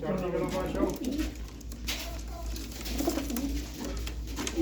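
Pigeons coo steadily throughout, a low repeated warbling close by, with someone talking over the birds and a constant low hum in the background.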